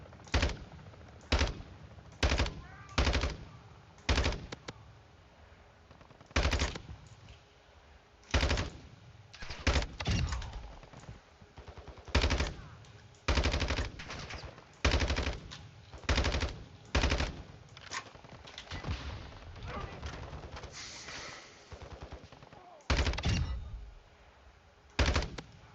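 Rapid machine gun fire in the video game DMZ Warzone 2.0, sharp bursts repeating in quick, uneven volleys from start to finish, loud and close with no talking.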